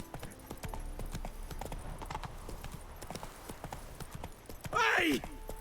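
Roach, the horse in The Witcher 3, trots with brisk, rhythmic clip-clop hoofbeats at close range, and a short whinny comes near the end. Voices speak in the background.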